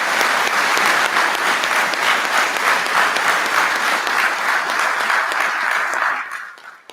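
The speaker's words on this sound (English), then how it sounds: "If you'll join me in giving each one of these individuals a round of applause" Graduation ceremony audience at the MSFA Class 208 graduation breaks into sustained, dense applause that holds steady and loud throughout before tapering off at the end.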